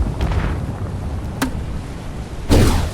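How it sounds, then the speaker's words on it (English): Explosions and grenade blasts in the video game Space Engineers during a hostile attack: a sharp crack partway through, then a heavier, louder burst near the end, over a constant low background rumble. "Explosions everywhere. I can hear somebody firing off grenades."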